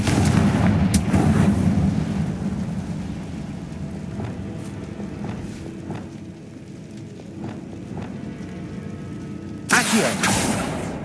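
Confringo fire spells blasting a barricade in Hogwarts Legacy, with loud booming bursts at the start and a fresh blast near the end, and a rumbling, crackling game ambience in between.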